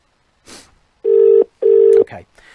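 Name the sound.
incoming phone call ringing on the phone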